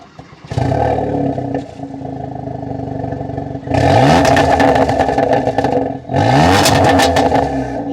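Kia K3 GT with a 1.6 turbo engine and an Avante N exhaust fitted, started up, then idling loudly and revved in two strong bursts with crackling exhaust, close up.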